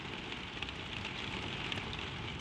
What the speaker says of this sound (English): the rain falling soft and softer on the quiet roof